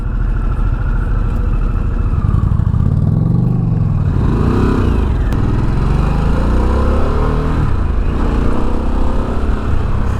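A 2024 Harley-Davidson Sportster S engine rumbles loud and close on the move, rising and falling through gear changes under steady wind roar.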